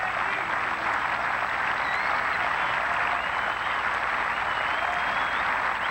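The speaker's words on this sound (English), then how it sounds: "Generous applause for Westwood." Golf gallery applauding Westwood at the Million Dollar Sun City tournament, a steady, broad wash of clapping from a crowd at a distance, continuous and even throughout without any voices.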